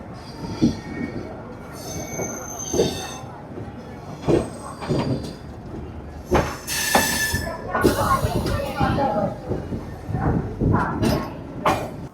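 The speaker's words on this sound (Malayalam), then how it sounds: "അവിടെ നിന്നൊരു ട്രെയിൻ പോകുന്നുണ്ട്," A train moves through busy Vijayawada railway station: rumbling wheels, sharp metallic squeals and clanks come in uneven bursts, with faint voices in the background.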